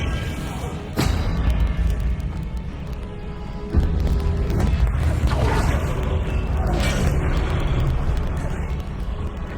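Confringo spell explosions in a Hogwarts video game: two heavy booming blasts, roughly three seconds apart, land over a continuous rumbling game backdrop.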